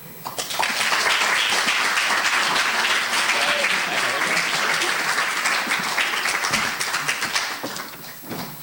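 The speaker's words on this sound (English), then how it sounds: "How about one more round of applause" A crowd claps in sustained, dense applause that holds steady for several seconds before tapering slightly at the end.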